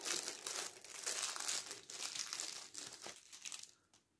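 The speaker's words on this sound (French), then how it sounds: "Donc petit stylet papillote, je vous le déballe." A red Christmas-themed papillote-style stylus for diamond painting comes out of its packaging with continuous soft crinkling and rustling of wrapper, close and quiet, tapering off at the end.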